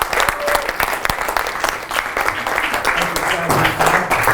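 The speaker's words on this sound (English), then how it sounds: "Please give him the applause." An audience gives a standing applause of welcome to a speaker, with dense and loud clapping throughout and faint voices in the crowd beneath it.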